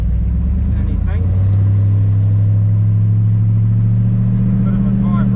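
A rattly 1946 Chevy pickup with a 350 small-block V8 rolls under its own power, its engine giving a loud steady low drone that rises into a stronger hum, with mechanical clatter and a person talking over it.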